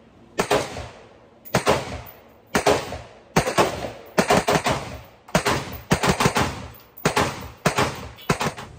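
A Ruger Mini-14 Ranch rifle with a blued steel barrel and hardwood stock fires outdoors, about eleven loud, sharp shots in quick pairs and singles, each followed by a short echo, with no voices.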